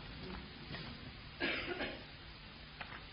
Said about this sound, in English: Thank you for coughing, it covers the dead time.